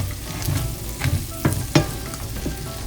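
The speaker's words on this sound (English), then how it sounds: "And now you're gonna start mixing." Mixed spices are stirred into meat frying in a pan for a meat and groats dish. A steady sizzle runs throughout, with several sharper scraping and clacking stirring strokes over it and no voices.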